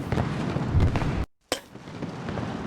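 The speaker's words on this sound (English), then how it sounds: "That should be plenty of fireworks." Fireworks in the video game Lightning Returns: Final Fantasy XIII, a dense crackling, booming burst of noise that cuts to silence briefly, then resumes with another sharp pop and a lingering rumble.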